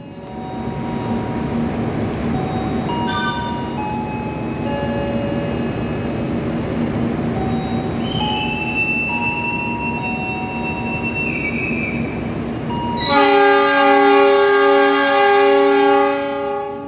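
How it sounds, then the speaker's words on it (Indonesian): The Argo Merbabu passenger train departs a station in Indonesia, bound for Gambir, rumbling steadily with tonal whines and a squeal, and a loud harmonic horn sounds near the end; no one speaks. "Kereta api Argo Merbabu dengan tujuan akhir stasiun Gambir telah diberangkatkan dari stasiun"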